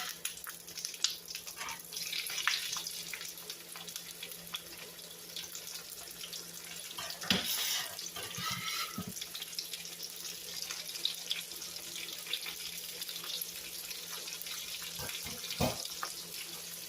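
Sliced onion sizzles in a hot skillet, a steady, fairly loud frying hiss with crackling spatter that runs unbroken throughout, with no talking.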